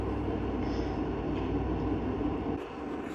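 A Lionel model train rumbles steadily along its track with an engine lash-up, a close continuous rolling drone that dips slightly near the end.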